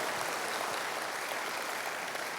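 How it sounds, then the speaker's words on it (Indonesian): A church congregation applauds for God, a dense, even wash of clapping that fills the room and holds steady at moderate volume without a break. "Tepuk tangannya boleh yang paling meriah buat Tuhan kita."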